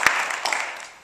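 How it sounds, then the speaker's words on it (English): Audience applause at a motivational talk: a brief, moderate burst of many hands clapping, heard on its own and fading slightly toward the end. "applause to Tim."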